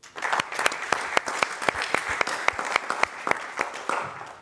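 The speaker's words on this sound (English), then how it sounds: "You all deserve a round of applause." Audience applause at a university startup venture day event, a dense burst of many hands clapping close and loud with sharp individual claps throughout, no voices over it.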